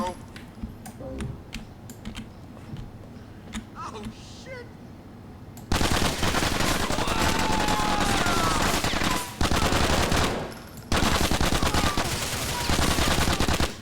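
Rapid bursts of automatic gunfire in the game GTA: The Ballad of Gay Tony, scattered sharp shots at first, then dense, loud sustained firing with brief pauses, with a voice speaking between shots.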